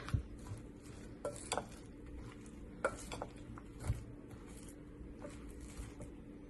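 Vegetables are stirred with coriander powder and spices in a pot for biryani. A spoon gives scattered scraping clinks against the metal at an uneven pace, over a faint low hum.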